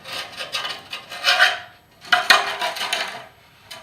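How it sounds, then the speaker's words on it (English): A metal chisel scrapes old glued-on gasket material off a Chevy Colorado transmission in repeated rough, rasping strokes, loud and close, with a short pause midway and no talking. "what I have here is just a chisel. I'm going to use it to clean it up. So, get all this old gasket off."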